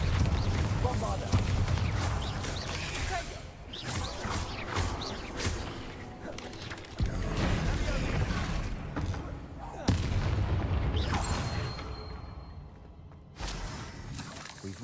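A Bombarda spell explosion in the Hogwarts Legacy video game, heavy booming blasts and crashing debris over a dense rumbling game soundscape, with a character's voice calling out.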